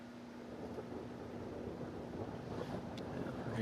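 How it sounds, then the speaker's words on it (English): Wind blows during a strong thunderstorm, a steady, fairly faint rushing buffet against the microphone with a low background rumble and no voices. "Wind's cool."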